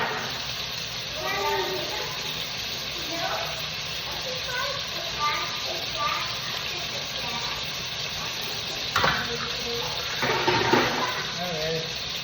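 Water poured into a hot cooking pan gives a running hiss and sizzle with a few louder bursts, under a talking voice.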